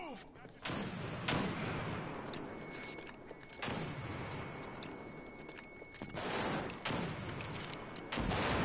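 Heavy booming blasts from a grenade explosion in a shooter video game, with several loud impacts and rumbling tails spread across the clip amid other gunfire-like thuds.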